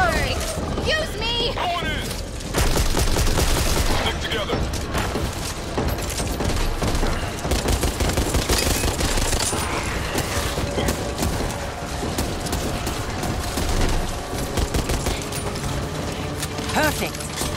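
Constant gunfire aimed at zombies in Back 4 Blood, a dense rattling fusillade of shots and mechanical clatter running without pause, with players shouting over the chaos.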